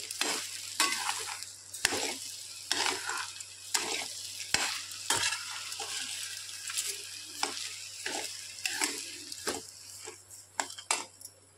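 A spoon stirs sugar into lapsi, a Maharashtrian broken-wheat porridge, in a pan, with repeated scraping strokes and a soft sizzle beneath, irregular scrapes recurring every second or so, close and alone with no voices.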